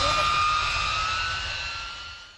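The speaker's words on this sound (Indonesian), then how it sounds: "Drone" A drone flies in a video game, a smooth, whining jet-like hum that holds steady and fairly loud, then slowly fades as it moves off.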